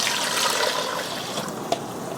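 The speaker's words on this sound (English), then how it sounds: "now we're going to add 4 cups of water" Steady rushing of water pouring continuously into a pot for a couple of seconds, about four cups, full and close, with a small clink near the end.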